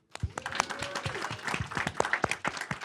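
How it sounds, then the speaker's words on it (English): A modest audience at a public radio photography forum gives a round of applause for the event partners, scattered distinct claps from a small group at moderate distance. "if you'll give them a round of applause"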